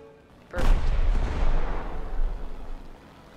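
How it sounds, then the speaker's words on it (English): Bombs dropped from an aircraft in the video game War Thunder explode as one sudden, heavy blast followed by a few seconds of rolling, rumbling aftershock that slowly fades. "we will drop the bomb and then turn around"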